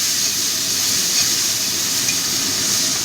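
Tomato fries in hot oil in a pan while okra is cooked with mustard, poppy seed and cashew, a continuous close sizzle and hiss that holds steady for several seconds, with no talk.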